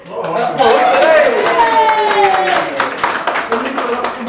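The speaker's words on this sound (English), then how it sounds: "We've got to wait for the applause." Scattered clapping from an audience at a Christmas awards evening rises over voices and laughter, a thin patter of hands mixed with chatter and cheerful calls.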